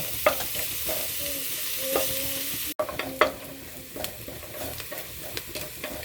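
Onion and garlic sizzle in a hot pan while being stirred, a constant frying hiss broken by scraping utensil strokes and clinks against the pan, close up and without talk.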